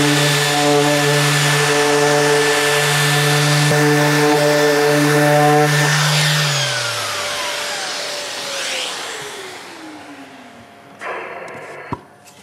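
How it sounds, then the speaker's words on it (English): A Festool ETS random orbital sander runs over granite with a steady harmonic whine and broadband hiss, then winds down as the motor pitch falls away near the end, with a few light knocks just after. "ensure that we come across the surface evenly and smoothly using the ETS sander"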